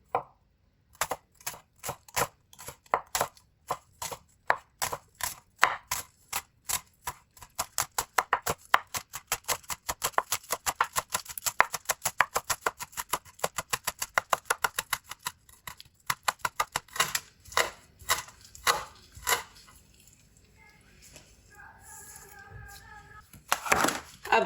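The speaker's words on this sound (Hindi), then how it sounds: "अब इनको बारीक बारीक काट लेंगे।" Green onions are finely chopped on a board, a long run of crisp knife taps that starts slow, speeds to a fast steady rhythm, then slows again before a brief voice near the end.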